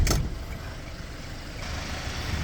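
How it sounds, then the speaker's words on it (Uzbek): A 2018 Hyundai Porter manual truck engine idles steadily close by, a low, even rumble after a brief knock at the start, with no voices. "motorlarning ovozi yaxshi, normalniy"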